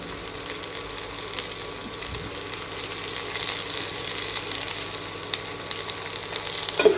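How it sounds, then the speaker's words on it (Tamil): Two large chopped onions sauté in a pan with a steady, close sizzle that holds evenly throughout and swells slightly near the end, with no voices. "பெரிய வெங்காயத்தில் 2 வெங்காயம் போட்டு நல்லா வதக்கிக்கணும்."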